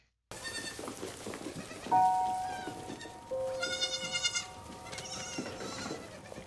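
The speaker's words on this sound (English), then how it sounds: "We get to the goats." Goats bleat several times in a scene from the TV series Severance, with drawn-out, wavering calls rising over a soft background bed and no talk.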